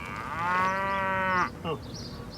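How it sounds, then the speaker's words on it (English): One cow lets out a single long, loud moo close by, with a steady pitch that breaks off sharply and is followed by a brief grunt. A voice makes a short sound just after. "You realize these are cows, right?"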